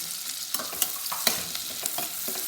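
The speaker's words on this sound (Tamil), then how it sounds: "இப்போ அடுத்தது ஆனியன் அது போட்டு நல்லா வதக்கணும்." Onions sautéing in a pot for one-pot tomato rice, a steady broadband sizzle with a few sharp scrapes and clinks of a spoon stirring, close and moderately loud, no voices.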